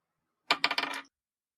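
Small dice tossed during a tabletop role-playing session: a quick rattling clatter of several bright clicks that settles within about half a second, close and crisp against silence.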